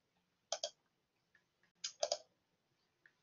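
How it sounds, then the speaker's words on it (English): A computer mouse gives a few sharp, close clicks in quick pairs, separated by quiet pauses, with a couple of fainter ticks between them. "clicking in the wrong place"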